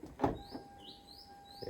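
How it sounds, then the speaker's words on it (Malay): During a routine inspection of a manual car, a door is opened with a short clunk of the latch and a soft creak, heard close and fairly quiet. "Buka terus pintu tu."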